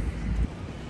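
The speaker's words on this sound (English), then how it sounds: "Lots of wind." Wind buffeting a microphone outdoors in Brighton, a low rumbling gust that swells briefly and then settles into a steady blustery roar.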